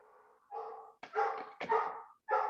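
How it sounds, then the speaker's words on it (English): A dog barks in short bursts, several sharp yapping barks in quick succession, fairly close and clear with no talk over them. "Oh, somebody's doggy's barking."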